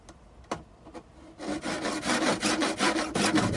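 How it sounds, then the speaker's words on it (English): A rough opal stone has its edges filed by hand, a few faint isolated scrapes first, then a steady run of rapid, close, gritty rasping strokes. "now I'm just filing the edges to,"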